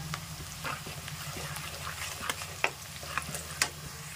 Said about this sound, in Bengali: এবার দিয়ে দিচ্ছি একটা পেঁয়াজ কুচি মিডিয়াম সাইজের, ভালো করে ভেজে নেব